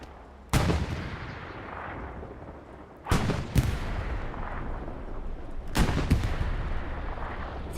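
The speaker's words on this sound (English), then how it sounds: "Bombing run called in from PZLD over the hard cap." A bombing run in a competitive console match on a Battle of the Bulge map near Foy drops three heavy, booming blasts, each followed by a rolling rumble, spaced a few seconds apart and close.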